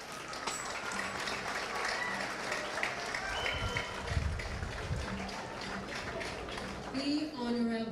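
Sustained applause from an audience at a cabinet swearing-in ceremony for the government of St. Christopher and Nevis, steady clapping throughout with crowd noise and some voices underneath.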